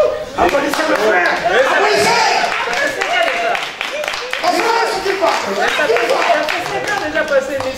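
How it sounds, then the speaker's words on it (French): An audience applauds for a stretch, dense overlapping hand claps filling the room with a few louder smacks, steady and close throughout. "Applaudissez le frère"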